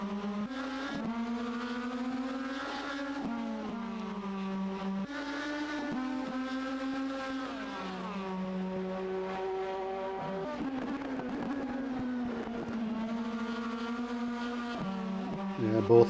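Race car engines whine through a chicane in a sim racing game, their pitch stepping up and down with gear changes and throttle lifts, a continuous fairly loud drone.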